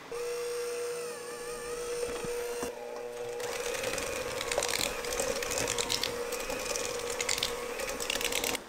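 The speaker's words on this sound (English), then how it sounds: "I'm just gonna mix that in using a hand mixer" A handheld electric mixer blends mushroom extract into soap batter, its motor whining steadily up close while the beaters churn with a fluttering, slightly uneven rattle.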